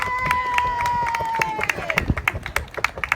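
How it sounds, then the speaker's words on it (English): A crowd applauding at a protest outside the National Trust AGM, an outdoor patter of claps that builds and grows louder and sharper toward the end, with a steady tone and murmuring voices underneath. "Let's have a round of applause"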